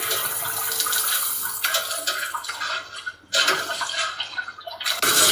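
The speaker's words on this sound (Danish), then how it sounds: "Og så tænder vi vandet på den temperatur, vi gerne vil have." Shower water runs at an indoor dog swimming pool, a steady close hiss of spray that briefly drops as the flow is adjusted and then gushes again.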